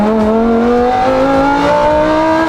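A modified Lamborghini Huracan STO engine revs hard, its loud, close exhaust note climbing steadily in pitch as it accelerates, with no voices over it.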